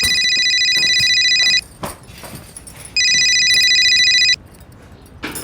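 Telephone ringing indoors in two loud, close electronic bursts of about a second and a half each, separated by a short gap, with faint background noise between rings.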